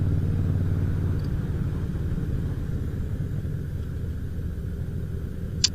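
A 2004 Harley-Davidson Fat Boy cruises along summer country lanes in the UK, its engine a low, steady rumble that stays constant throughout the ride, with a faint click near the end.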